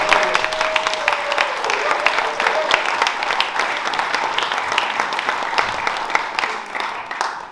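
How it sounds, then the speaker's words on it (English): Audience applause for Paula at a Sister Bay Bowl gathering, lively clapping from a room of people with a voice speaking over the start, tapering gradually toward the end. "give her a nice round of applause"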